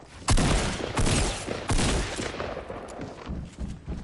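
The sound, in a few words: grenades exploding in Fortnite, a video game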